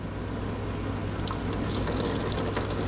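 Coolant gushing from a radiator hose on a 2020 BMW S1000XR motorcycle, a steady close-up splashing stream of liquid running continuously without a break.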